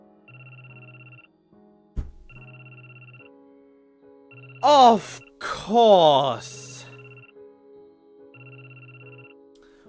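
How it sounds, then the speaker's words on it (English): A cell phone rings in the visual novel Sharin no Kuni as a repeating electronic ringtone in short bursts, interrupted midway by a brief spoken exclamation and a gasp-like vocal sound. "My emergency cell phone began to ring."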